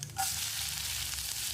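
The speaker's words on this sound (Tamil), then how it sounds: "வெங்காயத்தை லேசாக செவந்து வர்ற அளவுக்கு வதக்கிடலாம்" Chopped onion sizzles in hot oil with popped mustard seeds and cumin, a steady close frying hiss that holds constant throughout.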